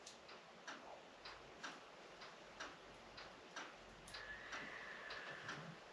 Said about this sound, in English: It's a beautiful sound. It's ticking. I love clocks.